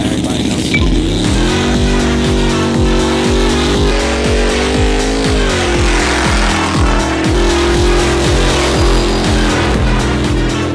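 A loud 700-horsepower off-road Corvette roars across sand dunes, its engine revving up and shifting through repeated rising pitches with a throaty rumble, sustained close and intense for the whole stretch, with music or voice faintly mixed in.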